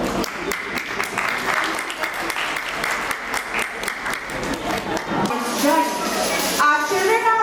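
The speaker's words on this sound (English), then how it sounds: "Round of applause for our talented performers." Applause from the audience at a school annual day function, many hands clapping in a busy hall with rapid irregular claps, while voices and a bit of music or chatter rise near the end.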